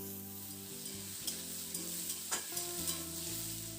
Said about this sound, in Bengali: এবার আলু পটল আরও কয়েক মিনিটের জন্য নাড়াচাড়া করে একটু ভেজে নিতে হবে।